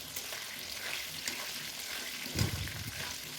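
Potatoes frying in plenty of oil in a kadai with salt and turmeric, a soft, steady sizzle with occasional stirring scrapes, one louder stir near the middle-end, no talking.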